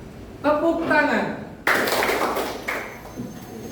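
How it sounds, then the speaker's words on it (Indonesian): A class of students claps together in a short, loud burst that fades into scattered claps, following a spoken instruction from a teacher. "Guru berkata, tepuk tangan."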